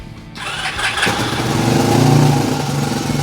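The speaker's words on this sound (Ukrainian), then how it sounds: "Повертаємо ключ і натискаємо на стартер." A motorcycle engine turns over on its electric starter after sitting unused, catching almost at once and settling into a loud, steady running note that stays up close with no talk.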